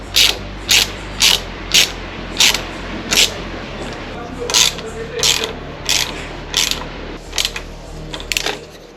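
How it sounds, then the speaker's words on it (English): Ratchet wrench clicking in short regular bursts as a bolt is tightened on a bottle holder clamp fitted to a Royal Enfield Himalayan 450 motorcycle, roughly a dozen crisp close clicks over a low background hum. "take this second bolt, tighten it in place"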